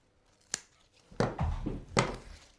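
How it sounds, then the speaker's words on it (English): Scissors cut through material for a decorative floor arch, with one crisp snip followed by a couple of longer, rustling cuts, close and fairly quiet. "I'm going to cut this in the middle"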